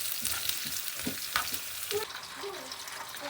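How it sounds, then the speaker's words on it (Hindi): Garlic, cumin and whole dried red chilies frying in hot oil for a tadka to pour over kadhi, a steady close sizzle with a few stirring scrapes and small pops, no talking. "तो अब इनको जो है ना तड़का बना के कढ़ी के अंदर डालते हैं।"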